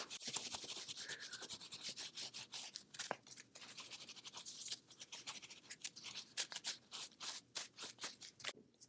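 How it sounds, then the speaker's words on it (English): Repeated rubbing and scraping strokes of a cloth wiping excess antique paint off a leather spur strap, close and steady at a brisk uneven rhythm throughout. "It's perfect time to go ahead and wipe the excess off."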